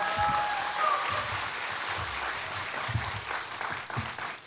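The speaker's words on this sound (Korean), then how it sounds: "목사님 나오실 때 큰 박수로 맞아주시기 바랍니다." A church congregation claps as the pastor comes forward for a Sunday service, a steady wash of many hands filling the room at moderate loudness, with faint voices and a little music underneath.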